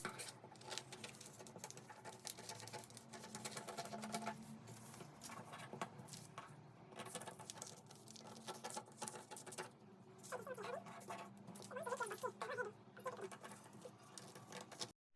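Scissors cut out a paper sewing pattern for a side-gathered dress, giving faint, close snipping and soft paper rustles in an uneven patter, with no talk.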